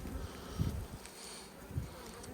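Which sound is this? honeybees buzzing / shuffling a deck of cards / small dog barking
honeybees buzzing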